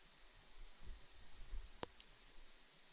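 A single sharp computer mouse click, faint and close, against a quiet low room hum.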